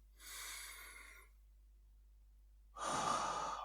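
Breathing during a guided meditation: one soft, drawn-out breath, a pause of near silence, then a second, louder breath. Close and hushed, with no speech.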